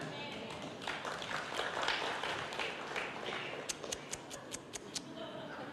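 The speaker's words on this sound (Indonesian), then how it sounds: "Pengen nangis saya dengar tepuk tangan saudara." A church congregation applauds during a sermon, a broad, steady patter of many hands that thins out into a few distinct, sharp individual claps near the end.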